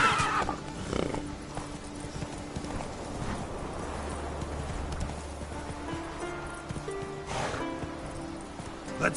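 Roach the horse galloping in a video game: quick, even hoofbeats drum close and continuous, with a neigh near the start and another near the end, and little talk.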